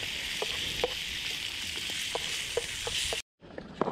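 Bacon sizzles in a pan at a campsite with a continuous bright hiss, dotted by small pops and crackles and briefly cut off near the end.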